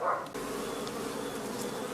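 Honey bees buzzing close by while they drink treatment drops at an apiary, a steady continuous drone with slight pitch wavering, heard alone with no talk.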